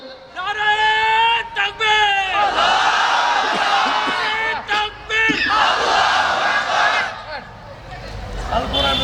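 A crowd at a religious gathering shouts the takbir in loud, close unison, with one voice leading a long call and the mass of voices answering in repeated swelling bursts.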